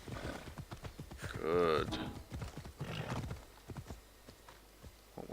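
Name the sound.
horse galloping in video game Assassin's Creed Odyssey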